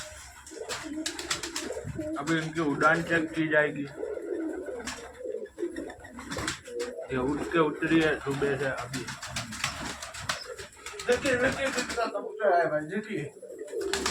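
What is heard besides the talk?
pigeons cooing at feeding time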